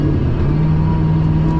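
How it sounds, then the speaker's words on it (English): Koenigsegg Regera hypercar engine at freeway speed, a steady low droning hum with a sustained tonal whine on top, surging slightly as it moves through the power band, heard from inside the cabin with no talk. "You can hear the car's kind of like figuring out where to go. It's like surging and shifting through the power band."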